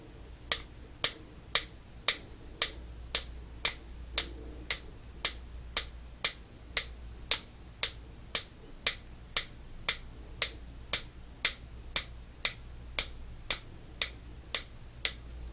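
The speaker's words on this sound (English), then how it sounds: "And you tell me how many taps you hear" Taps close to the ear during a cranial nerve hearing test, about thirty crisp, evenly spaced clicks repeating roughly twice per second, loud and isolated against a quiet background with no talking.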